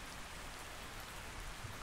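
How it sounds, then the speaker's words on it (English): Steady rain falling across a fantasy landscape in the game Ark: Survival Ascended, a soft continuous hiss of drops on surfaces with no pauses, heard alone at moderate distance. "That's what rain looks like in a fantasy world."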